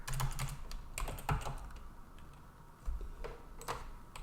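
Someone types commands into a bash shell on a computer keyboard, giving quiet, irregular clicking keystrokes with a few louder taps, close by, with no one talking.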